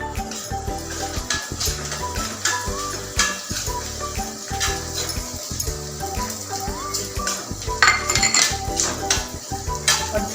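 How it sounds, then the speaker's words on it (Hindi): Ground edible gum (gond) stirred into a hot mixture in a metal pan, the utensil clattering and scraping against the pan in a busy, continuous rhythm with faint sizzling underneath, close and fairly loud. "अब ये गोंद को मैं इसमें मिक्स करूंगी।"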